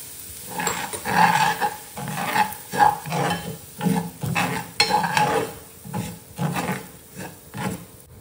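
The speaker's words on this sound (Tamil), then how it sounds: "இப்போ ரவையை போட்டு வறுத்துக்கலாம்." Semolina and cashews are roasted in a pan, with a spoon scraping and stirring in repeated strokes roughly every second, each stroke a rough, gritty swish over a soft sizzle, close and fairly loud.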